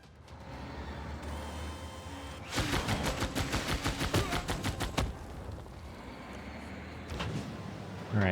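Rocket artillery salvo firing on a city in Civilization VI, a rapid string of sharp launch bursts in the middle over a steady background hum, preceded and followed by quieter ambience.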